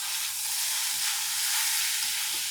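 Seasoning for Kerala fish thoran sizzles steadily in a hot pan, a continuous bright hissing fry that stays loud and even throughout with no talking.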